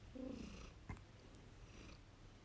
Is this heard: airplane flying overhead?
no